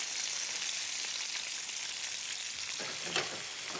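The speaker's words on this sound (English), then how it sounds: "So I'm just sauteing this in a little olive oil, and I just want one layer so it gets really seared." Food sauteing in olive oil in a single layer in a pan for a hard sear, a loud, even crackling sizzle filling the whole stretch, with one brief clatter near the end and no speech.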